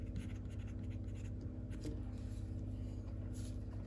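A Lamy left-handed fountain pen with a medium nib scratches faintly across paper in short strokes, quiet and close, over a steady low hum.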